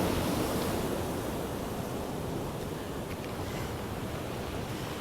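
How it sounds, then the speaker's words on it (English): Winter sea waves break against the stone steps of a seaside promenade at Cleveleys, a steady broad wash of surf and wind noise, continuous and moderately distant, with no voices. "the waves just lose their energy when they come up against these steps"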